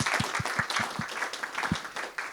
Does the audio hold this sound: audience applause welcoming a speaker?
yes